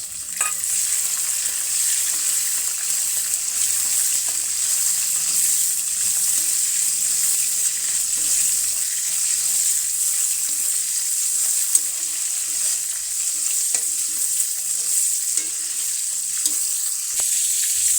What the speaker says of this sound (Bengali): কাঁচা ঝাল পেঁয়াজটা ভাজা হচ্ছে। এবার আমি দিয়ে দিচ্ছি চিংড়ি মাছ।